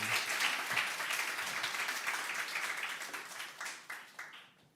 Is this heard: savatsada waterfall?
no